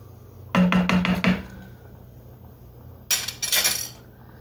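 A metal lid set onto a pot of stuffed pepper soup on the stove, a burst of quick clattering clinks followed by a second louder rattle as it settles, close and with no talk.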